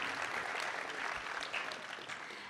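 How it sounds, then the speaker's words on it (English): Sustained audience applause at a high school concert fills the room steadily from start to finish, dense clapping with no voices rising above it. "So please give him a round of applause"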